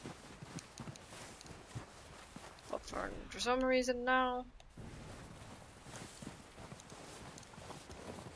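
Horse hooves clip-clop in Red Dead Redemption 2 as the horse walks, a short rhythmic run of steps buried under someone talking throughout, with a brief tonal musical swell in the middle.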